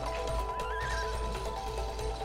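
A horse whinnies in a rising, wavering call over steady music and soft hoof clip-clops in the video game It Takes Two.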